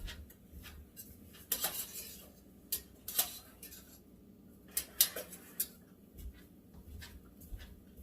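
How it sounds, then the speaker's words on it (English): Onions stirred in a pan with a utensil, giving scattered scraping taps and clinks against the metal at an uneven rhythm, close and fairly quiet. "You stir my onions."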